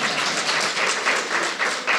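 Audience applause at a District 3 community meeting, a dense patter of many hands clapping steadily in a room, moderately loud and continuous without talk.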